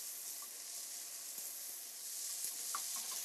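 Green peppercorns, red pepper and tomatoes sautéing in a skillet give a steady, soft sizzle and hiss, with a few faint pops and stirring taps throughout.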